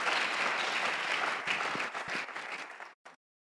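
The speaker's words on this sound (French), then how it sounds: "vous avez raison d'acclamer" A church congregation applauds at a French-language service, steady dense clapping that fades out and cuts to near silence, with a brief burst of clapping at the end.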